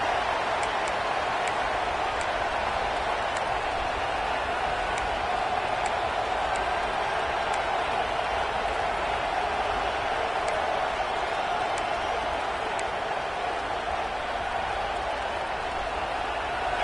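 A football stadium crowd roars in a steady, dense wash of cheering and applause that holds at an even level throughout, with faint scattered clicks above it and no voices standing out.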